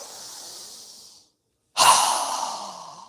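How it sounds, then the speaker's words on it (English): Breathing during a yoga session: a soft, steady breath fades to silence, then a deep, forceful open-mouth exhale bursts in loud and close and tapers off slowly. No talking. "exhale with our mouth open wide with a strong exhale as we lower our arms down"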